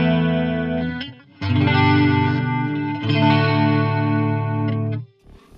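Strat-style electric guitar on the neck pickup through the chorus effect of a JST Toneforge Disruptor amp sim, shimmering wavering chords strummed in a few phrases with brief gaps, loud and without speech.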